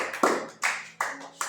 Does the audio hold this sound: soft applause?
yes